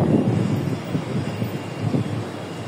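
Steady wind buffeting a microphone outdoors, a low rumbling roar that swells and eases throughout, fairly loud with no speech.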